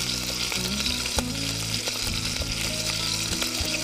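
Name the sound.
chicken frying in olive oil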